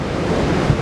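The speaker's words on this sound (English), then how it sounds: "you can really just get a sense of how atmospheric it is here with these waves" Ocean surf at Rinsey on the Cornish coast, a loud continuous wash of breaking waves mixed with gusting wind buffeting the microphone, no voices.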